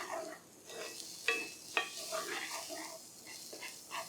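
Rinds sizzling as they hit hot olive oil in a pan for pork chops, a soft, close frying hiss with two sharp clinks of a utensil and some light scraping.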